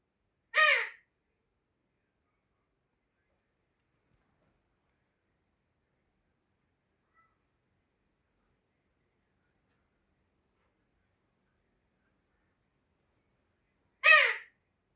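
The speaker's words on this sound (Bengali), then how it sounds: "আমার ঘরে একটা চন্দনা ঠিয়া আছে সেই মা মা করে ডাকছে" Pet Alexandrine parakeet giving two loud, short harsh calls indoors, one at the start and one near the end, with near silence between.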